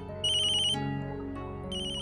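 A mobile phone ringtone plays loudly and alone, a bright electronic melody that stops briefly and then starts again, with no voices over it.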